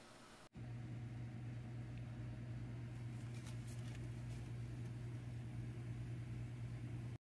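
Microwave oven running while cooking raw bacon: after a click near the start, a steady low hum with a droning tone fills the rest of the span, with faint crackling sizzle in the middle, until it cuts off at the end.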